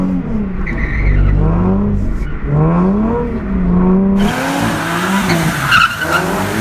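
A drifting Nissan 370Z without an angle kit, over-steering and nearly spinning, screeches its tires in a loud, continuous wail that rises and falls with the engine, close up with no talk.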